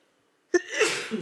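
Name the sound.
sneeze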